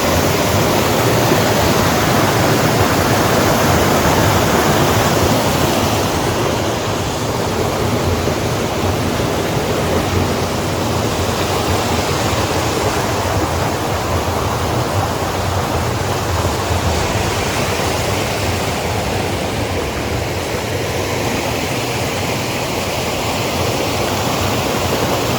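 A campsite stream used as a water source runs in a steady, loud rushing wash that goes on without a break, close by and with no voices.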